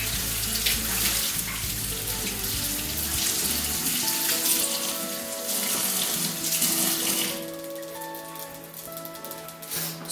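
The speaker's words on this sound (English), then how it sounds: "So we got purple onion, give that a quick wash." A purple onion rinsed under a running kitchen tap, with a steady loud rush of water splashing into a sink, shifting in tone as the onion is turned in the stream for about ten seconds.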